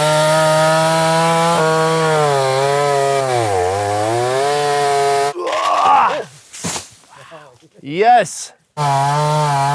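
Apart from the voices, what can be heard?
chainsaw cutting into a tree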